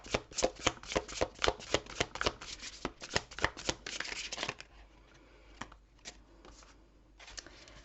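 Tarot cards are shuffled in quick, crisp riffles close by for several seconds, then the pace eases into a few scattered card flicks and taps.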